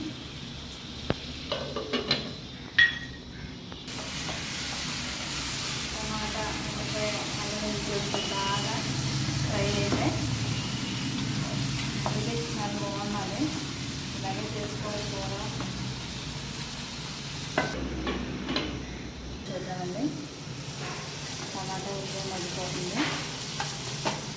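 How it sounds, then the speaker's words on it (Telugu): Ginger and garlic hit a hot pan for a home-style fish curry, sizzling and frying steadily while a spoon stirs and scrapes against the pan, with someone talking over the cooking throughout. "అల్లం వెల్లుల్లి తెచ్చి ఉంచుకున్నానండి వేస్తున్నాను ఇప్పుడు"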